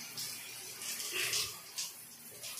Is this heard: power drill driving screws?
no